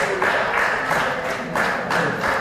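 A wrestling crowd at a UK show cheers and roars in a sustained, loud wash of noise that swells in pulsing waves, with rhythmic surges like chanting or clapping.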